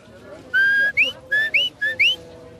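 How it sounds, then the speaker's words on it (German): A shepherd's whistled commands direct a border collie driving sheep around a large sheepdog trial field: six sharp, loud, clear whistle blasts in three pairs, each a steady tone followed by a rising one. "Die Pfiffe sind Anweisungen von Herrchen."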